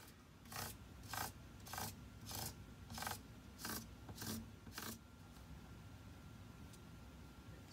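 Guitar frets being filed and reshaped on a Kiesel five-string, with about eight rhythmic rasping file strokes, close and steady, before the scraping stops and low bench noise remains.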